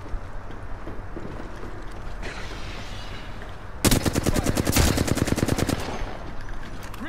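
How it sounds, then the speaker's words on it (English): Gunfire hits the player in Apex Legends: loud, rapid bursts of automatic shots rattle in quick succession over steady game background noise, peaking in a dense volley before easing off. "Shots fired, and they're hitting me."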